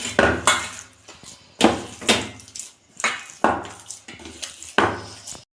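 Chitoi pitha batter kneaded by hand in a bowl, heard as close, regular thumps and squelches repeating roughly every half second.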